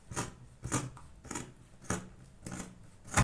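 Scissors cut out a round fabric shape for a padded headband, making about seven crisp, evenly spaced snips close by with no talking.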